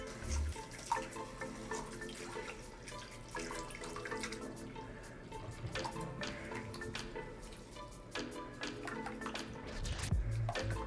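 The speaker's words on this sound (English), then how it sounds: "we're going to add 1 cup of quinoa in a bowl, and we're just going to rinse it a few times." Quinoa being rinsed in a bowl with a strainer under a running kitchen tap, a steady faint stream of water with splashes and shifting trickles, close and alone.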